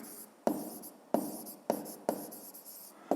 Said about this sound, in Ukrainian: Пишемо таких.